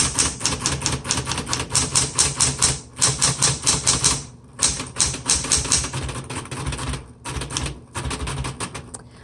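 A 1970s Smith Corona Electra 120 electric typewriter types in fast, steady bursts of loud, close key strikes over the hum of its motor, with brief pauses between runs of keystrokes.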